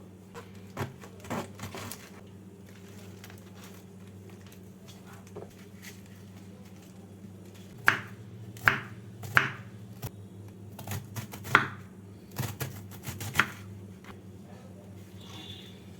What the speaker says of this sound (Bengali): এইভাবে কেটে নিচ্ছি বাঁধাকপিটাকে